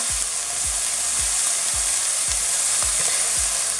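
Steady sizzle of onions frying soft in a pan for a Bengali dry fish bhuna, with a regular series of soft low knocks, like stirring or tapping, every half second or so.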